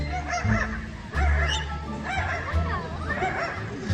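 A parrot imitates a dog, giving a series of short, yappy, chihuahua-like barks up close, several in a row with a raspy, honking quality.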